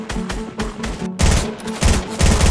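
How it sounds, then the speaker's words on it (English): Rapid bursts of gunfire in a Fortnite battle fight, several loud close shots in quick groups, with a denser, heavier volley in the second half and no talking. "Raptor, get out the sniper and blow his head off."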